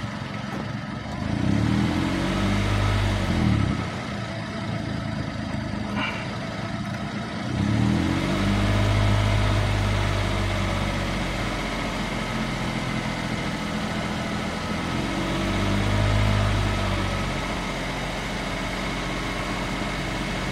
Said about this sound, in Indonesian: RPM-nya aja masih di RPM di bawah 1000 ya